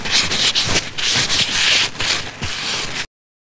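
Mineral oil and wax rubbed by hand into a wooden bowl, a loud, close, breathy rubbing in several long strokes that stops abruptly before the end.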